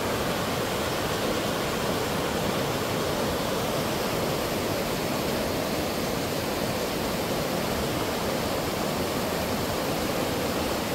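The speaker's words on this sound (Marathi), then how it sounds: "आणि ही नदीचा जो आवाज आहे तो आपल्याला येतोय" Kishanganga river in Kashmir rushing steadily, a dense continuous roar of flowing water, loud and close, with no voices throughout.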